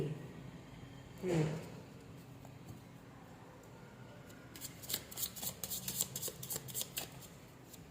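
Tarot cards being shuffled and drawn, faint papery riffles and a rapid flurry of soft card flicks toward the end, recorded quietly close up.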